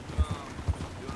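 Horse hooves clip-clopping in the video game Red Dead Online: a few soft, evenly spaced low thuds at a walking pace, brief and somewhat subdued.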